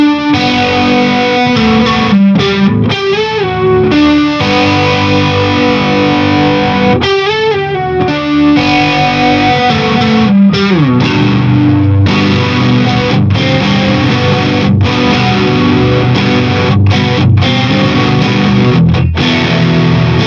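Electric guitar run through a Danelectro FAB chorus pedal, loud and distorted, with chords strummed steadily and a swirling chorus shimmer over a sustained wash of sound.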